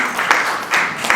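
A church congregation applauds and cheers for the word of God during a French-language sermon, with rhythmic bursts of clapping swelling and fading in a close, lively room.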